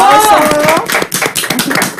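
Studio audience on a talk show gives brief, scattered applause, a short run of claps following a voice.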